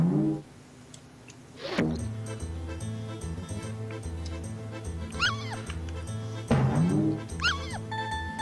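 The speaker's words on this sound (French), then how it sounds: "et en plus c'est un chien extraterrestre, visiblement à fond avec la testostérone" Game-style alien dog sound effects from Earthworm Jim 2, two loud barking yelps at about two and six seconds over continuous chiptune-like background music, with no talking.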